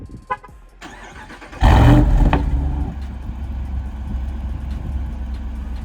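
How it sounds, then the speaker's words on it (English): A 2022 Jeep Wrangler Unlimited Rubicon 392 Xtreme Recon fires up through its quad exhaust, a few faint clicks giving way to a sudden loud roaring rev that settles into a deep, steady rumbling idle. "you cannot miss the quad exhaust system in the back here, because this just sounds insane"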